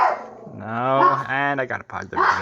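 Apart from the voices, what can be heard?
dog barking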